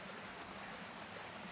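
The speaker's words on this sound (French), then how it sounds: "Cascade d'eau." A waterfall in the fishing game Fishing Planet gives off a steady, even rush of falling water that fills the short stretch without a break.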